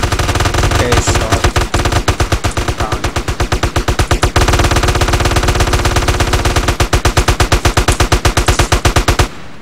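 Sustained rapid automatic gunfire from a video game war match, loud and nearly continuous with dense rhythmic bursts over several seconds, with brief pauses around the middle.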